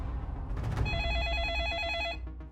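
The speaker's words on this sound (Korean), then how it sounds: "전화가 왔어요." An incoming call sets a telephone ringing with one sustained warbling ring over a dense background of low rumble and noise.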